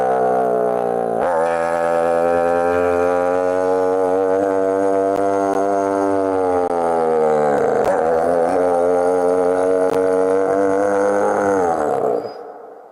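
A voice imitates an old motorbike engine, giving one long, loud, buzzing drone that dips briefly partway through and then cuts off near the end.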